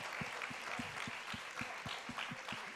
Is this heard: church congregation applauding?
yes